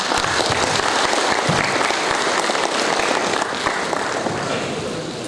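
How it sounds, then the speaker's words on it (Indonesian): A crowd at a 2024 graduation ceremony at AKN Rejang Lebong bursts into loud, sustained applause, many hands clapping together in a dense roar that holds steady throughout. "Kita beri tepuk tangan yang meriah untuk kita semua"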